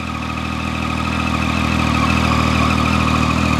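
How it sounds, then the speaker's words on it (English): A motorcycle engine with its standard exhaust runs steadily with a deep, throaty exhaust note that swells slightly in loudness, close and continuous. "one of the best sounding standard exhausts you'll ever hear"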